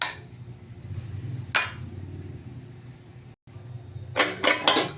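A metal lid clanks onto a pot of simmering pork pata adobo, a sharp clatter early followed by a few more clinks and knocks near the end, over a low kitchen hum.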